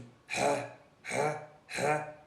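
A voice imitates a guttural, raspy throat-scraping sound three times, with short pauses between. The sound is used to show how Tigrinya guttural letters are pronounced, and each burst is moderately loud and close.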